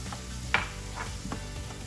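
Red and green peppers tumble into a pan of sizzling garlic. A quick clatter is followed by a soft, steady sizzle and a few light stirring scrapes, with no voices.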